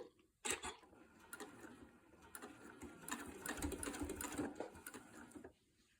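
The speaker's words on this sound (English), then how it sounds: "I'm going to try to sew right through that intersection." A home sewing machine stitches a quilt seam through a 9-patch intersection in a steady whirring run with ticking needle strokes, starting after a brief pause and slowing near the end; no talking.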